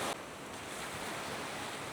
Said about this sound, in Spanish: Solamente se escuchan las olas que chocan a la orilla.